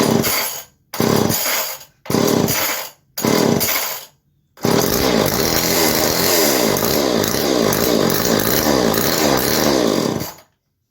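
A vintage 1970s Homelite XL chainsaw engine fires in several short bursts with gaps between them, then runs loud and continuous with a rising and falling buzzy roar for about six seconds before cutting off.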